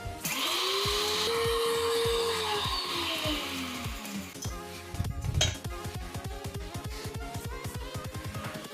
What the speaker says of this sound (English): this is an old grinder. Also, it is very loud.